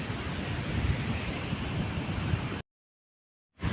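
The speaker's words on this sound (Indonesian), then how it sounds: "yang termasuk pantai yang memiliki ombak yang besar" Big ocean waves roll onto Petanahan beach on the south coast of Java in a steady, broad surf roar with wind rush, then it cuts to silence for about a second before the surf resumes.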